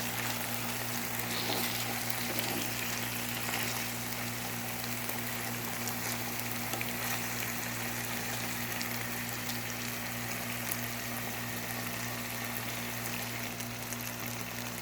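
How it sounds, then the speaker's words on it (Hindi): Fish shallow-frying in oil in a pan sizzles in a steady, dense, moderately quiet crackle that runs without a break, with a faint low hum underneath. "हम जो है वो डीप फ्राई नहीं कर रहे, शैलो फ्राई कर रहे हैं"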